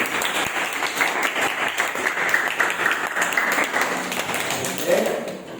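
A classroom of students claps in a steady ripple of applause, with a voice speaking over the clapping throughout.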